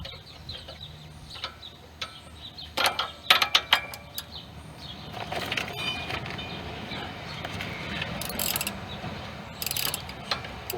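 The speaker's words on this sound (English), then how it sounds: "I'll take my wrench, cut on the nut," Wrench ratcheting on the nut of a Pontiac G6 rear toe link, a run of sharp metallic clicks and clunks that bunch up in the middle and then give way to steadier scraping and rattling work noise, close by, with no talk.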